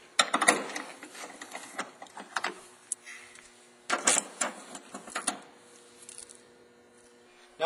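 A socket wrench turns out 10mm bolts on a Chevrolet Equinox, with quiet, irregular ratcheting clicks and short bursts of metallic rattling close by, separated by brief pauses.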